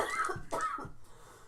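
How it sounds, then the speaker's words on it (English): A person coughs several times in a quick rough burst, close to the microphone, then quiets. "my apologies for my cough"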